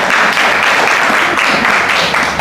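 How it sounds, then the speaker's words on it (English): Audience applause for a podcast guest, a steady dense wash of many hands clapping throughout, loud and close, with no voices over it. "Let's all give him a hand of applause."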